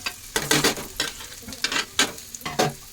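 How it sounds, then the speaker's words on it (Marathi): Chopped garlic and onion sauté in hot oil for a Malvani-style fish curry, a steady sizzle broken by about five loud bursts of stirring scrapes at regular intervals, close and with no talk. "तेलावर असं परतून घ्यायचं"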